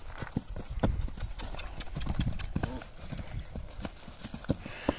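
Horse being tamed walking steadily, its hooves clip-clopping in an irregular rhythm at moderate distance, while people talk over the hoofbeats.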